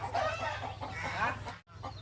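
Chickens cluck steadily and close by as they are fed on a small farm, with layered overlapping calls and a low background hum continuing throughout.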